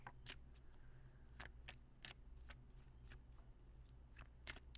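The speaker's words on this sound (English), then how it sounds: "I'm going to shuffle for like a minute more." A deck of tarot cards is shuffled by hand, giving quiet, irregular riffling bursts and soft flicks over a faint room hum, with no talking.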